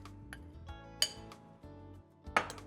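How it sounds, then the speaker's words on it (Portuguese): Red berries tipped into a cooking pan for a frozen berry pop, giving several light clinks and taps against the pan, quiet and close, with no talking. "frutas vermelhas vêm para a panela."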